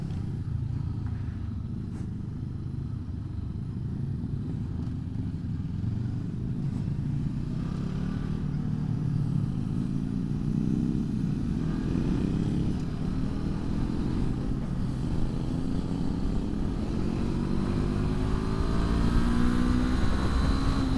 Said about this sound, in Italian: Per essere un due cilindri il sound è veramente interessante